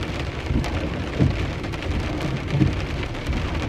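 Rain falling on a Tesla while it drives around town, a dense steady patter of drops on the car with low rumbling road and cabin noise underneath.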